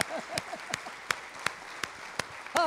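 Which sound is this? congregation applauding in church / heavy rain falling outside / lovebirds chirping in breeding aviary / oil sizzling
congregation applauding in church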